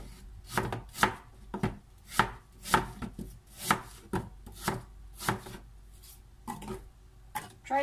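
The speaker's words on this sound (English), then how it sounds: "So we are going to slice the apples." A knife slicing apples for apple pie, about a dozen crisp, evenly spaced cuts landing on a board, close and clear with no voices.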